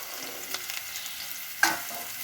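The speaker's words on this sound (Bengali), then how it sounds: "এখন আলুগুলো ভাজা হয়ে গেছে, এখন আমি এর ভিতরে ছোলা দিয়ে দিব।" Chickpeas are tipped into a pan of fried potatoes, a steady close oil sizzle with a few light stirring scrapes and a sharp louder hiss and clatter as they land near the end.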